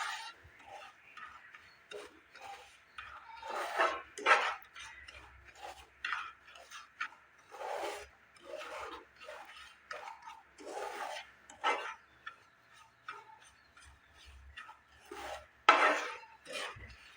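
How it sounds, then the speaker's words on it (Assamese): Dry semolina (suji) roasting in a pan, stirred continuously: faint, close scraping and rasping strokes in an irregular rhythm, with no voices. "চুজিখিনি মই ভাজি ল'ম।"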